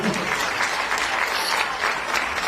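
An audience at a book presentation breaks into steady, dense applause, a continuous wash of clapping that holds at an even level throughout.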